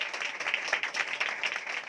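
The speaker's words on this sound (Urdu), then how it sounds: "زوردار تالیاں بجائیں" A church congregation at a Sunday service bursts into loud applause, a thick, continuous wash of many hands clapping at close range with no break.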